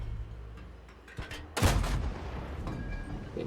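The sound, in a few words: Turán III prototipus tank gun firing in video game World of Tanks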